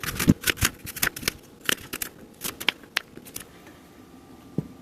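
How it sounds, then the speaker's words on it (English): A knife slices through a crisp green apple in a quick series of sharp, close cutting crunches and taps, irregularly spaced and fading off toward the end. "I'm going to cut my green apple."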